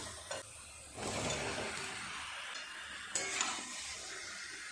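Boiled potatoes being stir-fried with spices in a pan: a steady sizzle with scraping stirs and clatter of the spatula against the pan, two louder bursts as the potatoes are turned, no talk.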